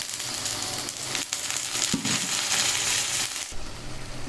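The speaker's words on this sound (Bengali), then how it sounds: "এখন একটু পানি দিয়ে দেবো।" Water poured into a hot pan of frying ginger and garlic, giving a loud, dense hiss and crackle that surges and holds steady, close up, with no voices.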